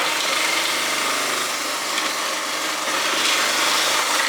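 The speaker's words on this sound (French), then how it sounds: "je n'ai pas de quoi les râper à la main donc je les ai râpées au robot" A food processor grates courgettes, its motor giving a steady, loud, continuous whir with a gritty texture for the whole stretch, and no voices over it.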